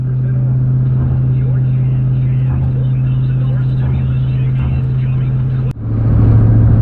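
Steady engine drone and road rumble inside a pickup truck towing a 1966 rear axle on the highway, a constant low hum with a brief thump and shift near the end, under a talking voice.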